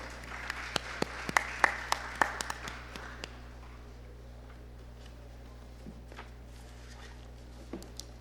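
A small conference audience at a geoscience session gives sparse, scattered claps for an arriving speaker, a brief flurry of individual hand claps over a low electrical hum that quickly dies away to a few isolated claps.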